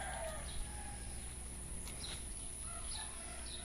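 Chickens cluck softly in a farmyard in the morning, faint scattered calls against quiet outdoor background noise, with no talking.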